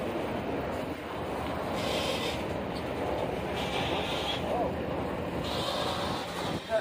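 A train rumbles steadily past at a railroad crossing, a continuous broad roar with wind buffeting the microphone throughout and a brief knock near the end.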